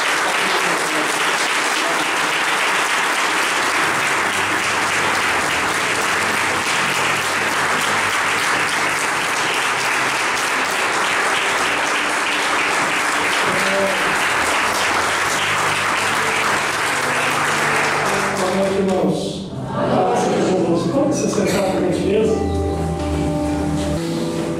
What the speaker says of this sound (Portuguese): Eu quero que nesse momento você aplauda bem forte ao Senhor.